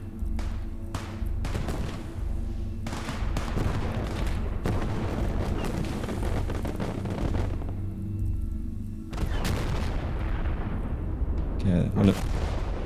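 Repeated heavy booms from mines blowing up tanks in the WWII strategy game Gates of Hell: Ostfront, during a Finnish defense at Dubovka. The blasts are loud and near, with rumbling battle noise throughout and a voice talking over it.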